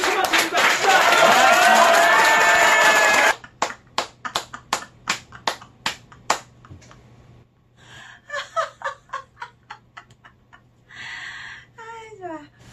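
An audience in a recreation and laughter session claps for about ten seconds, a dense burst of applause that breaks off abruptly into scattered single claps and a few murmuring voices.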